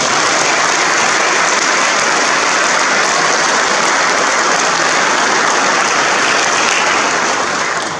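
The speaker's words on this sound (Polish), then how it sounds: "nagródźmy oklaskami tą Waszą pracę" Audience applause fills the space, a dense, steady roar of many hands clapping that holds for the whole stretch and tapers slightly at the end.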